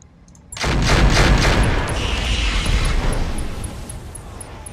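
Mech weapons firing in the RogueTech mod of BattleTech, a loud close burst of gunfire and blasts that starts abruptly and rolls on as a dense rumbling barrage before tapering slightly.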